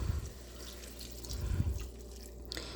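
Vegetables and their cooking water are poured into a soup pot for hamburger veggie soup, giving a steady liquid splashing and running sound close by with a few brief clinks, no talking.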